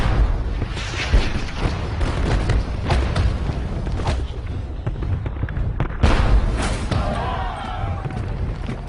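British artillery cannon fire at the Battle of Waterloo: dense, continuous booming and rumbling with crackling battlefield noise throughout, loud and close, with several heavier blasts standing out.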